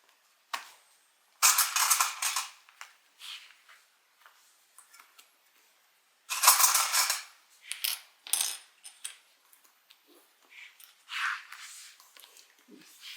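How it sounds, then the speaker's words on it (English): Plastic sewing clips snap one after another onto main fabric and lining laid wrong sides together for a handbag, a series of sharp close clicks and clatters with short quiet pauses between them. "Throw a few clips on here."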